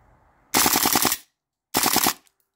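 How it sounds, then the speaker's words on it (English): Two short full-auto bursts from a Cybergun S&T Colt-licensed full-metal M4 gas blowback airsoft rifle, each a rapid, loud string of sharp cracks, separated by a brief pause. "All right, couple rounds on full auto."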